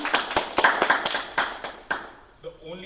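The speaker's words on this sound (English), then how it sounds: "Round of applause for Vipul." A small group applauds, bursts of clapping that fade out over a couple of seconds before a voice begins speaking.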